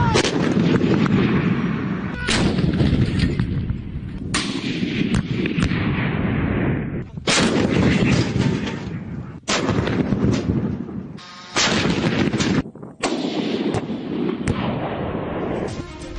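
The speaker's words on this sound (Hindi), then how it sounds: "गोबी डेजर्ट में ट्रेनिंग के दौरान रिकॉर्ड किए गए इस वीडियो में सिर्फ और सिर्फ धमाकों की आवाजें हैं।" Repeated artillery blasts of several types from military training in the Gobi Desert, loud booming explosions arriving in clustered bursts with brief gaps, continuous and heavy throughout with no talk.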